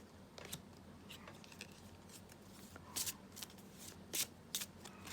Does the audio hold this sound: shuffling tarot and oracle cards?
yes